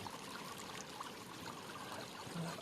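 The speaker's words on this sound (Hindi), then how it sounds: "इसमें हम पानी भरेंगे। लीक कर रहा है क्या?" Water trickling and dribbling steadily out of a torn polythene bag, a faint, continuous splashing outdoors in a jungle setting with no speech.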